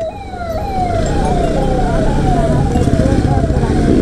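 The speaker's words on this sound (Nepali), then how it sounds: "एम्बुलेन्स आइरहेछ यिनीहरूलाई, अब बाटो चाहिरहेछ" An ambulance siren wails loudly and steadily on a Kathmandu highway, its rising and falling pitch repeating rapidly over a constant rumble of engine and road noise.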